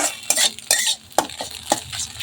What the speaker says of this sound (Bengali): ডিমটা এইভাবে ফুটো করে ভেজে নেব।